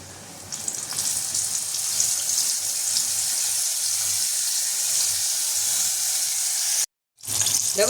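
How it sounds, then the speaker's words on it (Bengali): Spice-coated fish pieces for pakora frying in hot oil, a dense, steady sizzle up close that runs continuously, cuts out briefly near the end, then resumes. "দেখো মাছগুলো কি সুন্দর ভাজা হচ্ছে"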